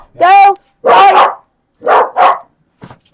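Several dogs, one of them a puppy, bark in short, loud, close bursts: two pairs of barks, then a faint short yip, with brief silences between them.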